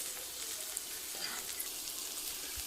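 Corn kernels, cumin, onion and chili frying in a little oil in a pan, giving a steady close sizzle with faint crackles throughout and no talk.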